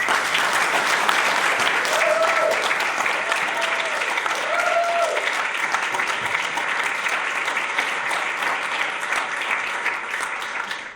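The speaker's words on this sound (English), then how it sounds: "Big round of applause, please." Audience applause at a community talk event, a long, full wash of many hands clapping that holds steady for about ten seconds, with a few faint whoops and voices rising briefly in the crowd.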